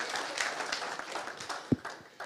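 Audience applause at an academic partnership forum, a thin, moderate patter of clapping from the room with one sharper near clap.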